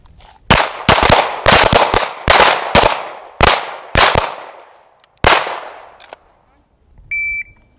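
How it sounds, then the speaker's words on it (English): Rapid pistol fire on a law enforcement shooting course, with about a dozen loud, close shots in quick bursts and echoing tails, then a brief electronic beep. "Did the cadence of the fire sound a little faster than the last time?"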